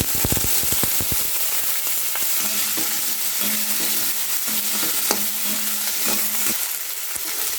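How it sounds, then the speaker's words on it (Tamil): Cut potatoes with curry leaves sizzle and are stirred in a pan, a steady frying hiss with scraping spatula strokes, a few sharp pops early on, loud and close throughout. "அந்த உருளைக்கிழங்கோட வாசனை வெளியில் வர வரைக்கும் வதக்கிக்கணும்"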